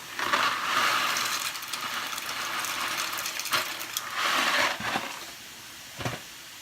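Dry rigatoni and bow tie pasta tumble into a cooking pot with a steady, close rattling clatter that swells in two longer pours and ends with a short final clink.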